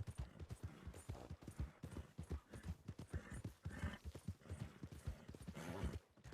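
Steady clip-clop of horse hooves in a video game, a brisk continuous trotting rhythm at low level with no talking over it.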